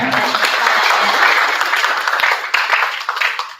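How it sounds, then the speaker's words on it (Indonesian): At a school event, an audience breaks into loud, close applause that keeps a full, dense texture throughout, with a few sharper individual claps standing out as it begins to thin toward the end. "Boleh tepuk tangannya."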